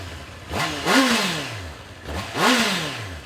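A Honda CB650R motorcycle engine with new exhaust pipes revs twice in quick succession. Each blip rises sharply and falls back, loud and close, with no talking.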